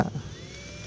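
A power drill whines briefly at close range, its steady motor tone rising slightly as the reaming bit grinds into the metal bearing seat of an electric fan.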